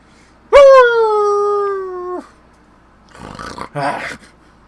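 In the video game Dragon Maul Z, a creature lets out one long, loud howl that holds steady for almost two seconds and then cuts off. A short, rough, growling vocal follows.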